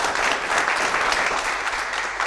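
An audience applauds at a local municipal election event in Créteil, with a dense, steady wash of clapping hands that carries loud and even from start to finish, with no talking over it.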